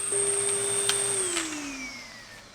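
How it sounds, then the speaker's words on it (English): A garage central vacuum system runs with a steady high whine and rushing air, its pitch gradually sliding downward as the motor winds down. "The air flying into this makes more noise than the vacuum."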